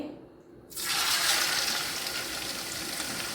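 Marinated fish dropped into hot oil for a Lakshadweep-style fish pickle sets off a sudden loud, broad sizzle that begins abruptly after a quiet moment and keeps hissing steadily.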